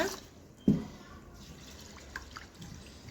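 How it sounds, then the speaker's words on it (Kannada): Sabudana sago pearls are washed with water in a bowl: a single soft splash of water, followed by a few faint, quiet drips in a calm indoor setting. "ಅದನ್ನು ಒಂದು ಬೌಲಲ್ಲಿ ಹಾಕ್ಕೊಂಡು ಎರಡು ಸಲ ನೀರು ಹಾಕಿ ವಾಶ್ ಮಾಡ್ಕೊಳ್ಳೋಣ."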